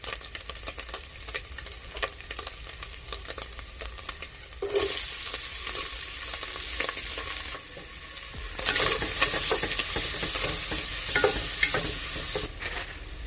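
Onions sizzle and fry in a pan, a steady hiss that surges louder in bursts as they are stirred, with no talking.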